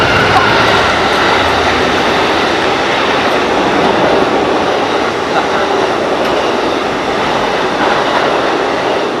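A Metra commuter train with new coaches passes on the BNSF line at Belmont, a loud, steady roar of wheels and cars rolling by up close for the whole stretch, with no letup.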